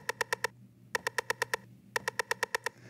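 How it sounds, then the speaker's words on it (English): A drum loop triggered from a key group on an Akai Force, playing as three short bursts of rapid, evenly spaced hits with pauses between, fairly quiet over a low hum. "it's always triggering just that exact same drum loop"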